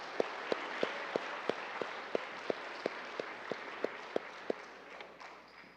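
An audience applauds to congratulate a student group, a broad wash of clapping across a room, with one sharper clap standing out in a steady rhythm, until the sound thins and fades near the end.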